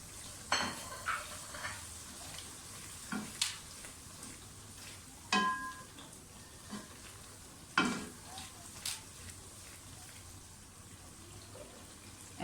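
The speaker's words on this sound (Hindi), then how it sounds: "आप इसे भी मिक्स करते हैं और इस तरह से भूनते हैं" Spices for mash dal frying and being stirred in a pan, a quiet sizzle broken by intermittent scraping and clinking of the spoon against the pan at irregular intervals.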